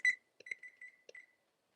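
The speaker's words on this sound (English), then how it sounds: "I'm gonna set the timer for 10 minutes." A kitchen timer being set for a batch of baking vegan red velvet crinkle cookies gives a run of short, thin electronic beeps, one sharper at the start and several softer ones after, quiet and close in a hushed kitchen.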